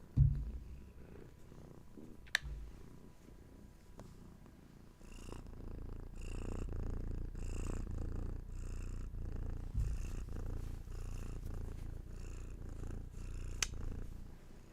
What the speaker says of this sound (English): Yeah, bring your purrs